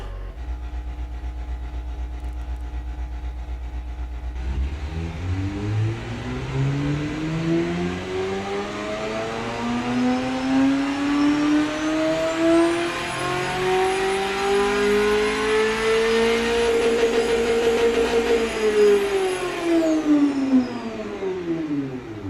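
1980s police interceptor car engine running without mufflers in the Automation car tycoon game, rough idle then rising and holding high revs with a raw, loud exhaust drone before easing off.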